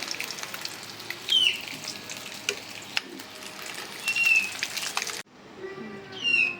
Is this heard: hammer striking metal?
no